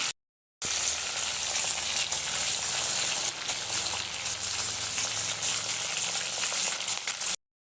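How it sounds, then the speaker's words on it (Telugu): Pomfret fish frying in oil with curry leaves, a loud, dense, unbroken sizzle that starts abruptly after a short silence and runs steadily to the end, with no voices. "తందువా ఫిష్ ఫ్రై కరివేపాకు ఫ్రై చేస్తున్నాము"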